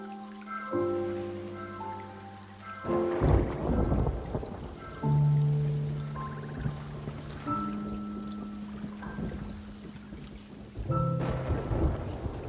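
Stormy weather in the pirate game Sea of Thieves: deep rolling thunder rumbles repeatedly under steady rain and open-sea wash, with sustained musical tones layered throughout and swelling louder in bursts.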